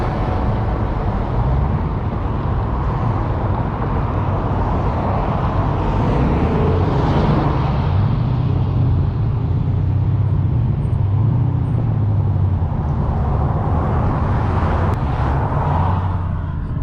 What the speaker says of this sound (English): There now are cars backed all the way up onto the interstate.